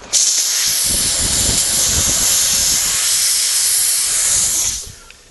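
A strong, continuous hiss of steam runs through the bending of dulcimer timber, with a low rumble beneath it, before fading out near the end.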